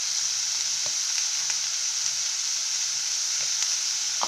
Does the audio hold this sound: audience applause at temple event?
no